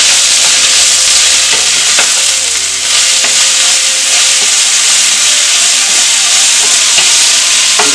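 Chopped leaves with salt sauté in a hot pan for a leafy thoran, giving a loud, constant hissing sizzle broken by occasional scraping stirs. No voices.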